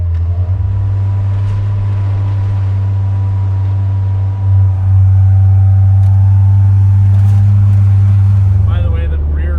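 A Nissan 720 4x4 truck with worn tires and loose rear wheels idles and churns through a muddy driveway: a loud, steady low engine drone rising slightly midway, heard close with cabin noise.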